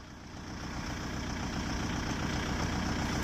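A Kubota MU5502 tractor engine runs with a 4.5-foot Garud rotavator attached, a steady loud low-pitched drone that builds slightly at the start and then holds even, close by with no talk.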